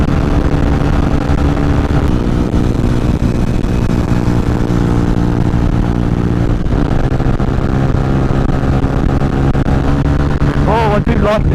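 Honda CBR 125 motorcycle at around 70 mph pulling out to overtake, with a steady loud engine drone and strong wind buffeting throughout, a brief shift in engine note midway, and someone talking over it.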